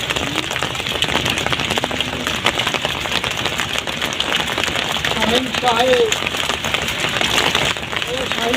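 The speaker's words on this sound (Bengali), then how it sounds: "বৃষ্টি হচ্ছে বৃষ্টির ভিতরে ভাই একটি হিট পেয়েছে" Rain falling during fishing on the Meghna river, a steady patter under frequent talking voices, with some scattered clatter.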